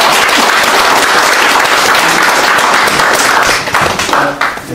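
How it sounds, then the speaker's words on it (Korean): Loud, dense applause from an audience at a founding assembly of a civic movement, welcoming its newly chosen leader, sustained throughout and thinning slightly near the end. "다시 한번 큰 박수로 환영했습니다"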